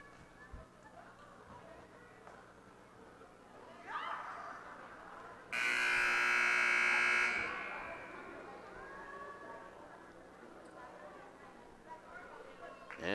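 A loud electronic buzzer ends a high school basketball game's first quarter, sounding for about two seconds in a busy arena, with crowd noise and an announcer's voice around it.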